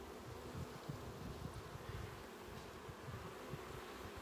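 Honey bees swarm thickly over the frames of a poly hive, a faint, constant buzzing drone with soft rustling underneath.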